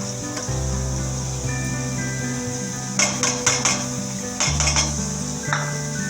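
Finely chopped carrots and beans fry in a pan for gobi fried rice, hissing softly under a low steady hum while a metal spoon clanks and scrapes against the pan in short bursts.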